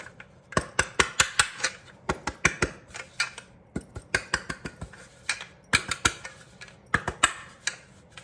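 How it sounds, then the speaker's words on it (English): A cake pan being shaken and tapped to spread flour around it for a pound cake: a steady run of quick, light metallic taps and rattles in close, irregular clusters, with no talking. "put this flour all the way around this pan"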